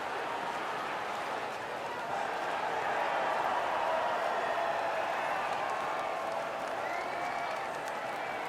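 Home crowd applause at Silverstone in the F1 24 racing game, a steady dense wash of clapping and cheering held at an even level throughout, with no talk over it.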